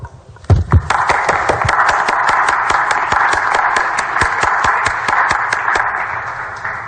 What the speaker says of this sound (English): Members, please join me in a round of applause for the Hobby Fellows on a successful session for all their hard work.